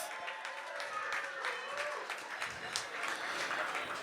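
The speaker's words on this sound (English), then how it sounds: "Everyone, a round of applause for the newlyweds." Wedding guests applaud the newlyweds in a steady, dense round of clapping that holds for the whole stretch, with a few voices faintly mixed in.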